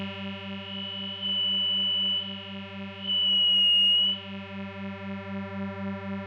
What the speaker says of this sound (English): This sounds like it's modeling a 24 dB filter.